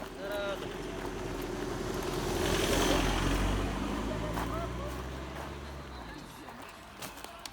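A car rolls past on a forest road during a rest stop on a village bike ride. Its engine rumble swells and then fades under wind noise and people chatting nearby.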